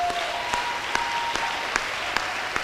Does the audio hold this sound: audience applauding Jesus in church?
yes